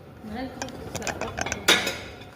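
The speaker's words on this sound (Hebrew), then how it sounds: "עכשיו אני בוחרת צלחת" Ceramic plates and dishes clink and clatter as one is chosen from a stack, a short burst of close knocks ending in a brighter ringing clash, with a voice faintly under it.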